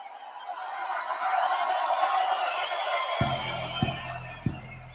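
A live crowd at a late-night concert cheers and whoops loudly and steadily, a broad wash of voices that fades into quieter chatter with a few sharp knocks near the end.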